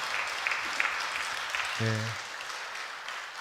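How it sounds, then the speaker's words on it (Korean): Church congregation at a Friday prayer meeting applauding in a steady sustained patter of clapping, while someone briefly says a single word over it. "여러분 다시 한번 우리 큰 박수로 감사드리겠습니다."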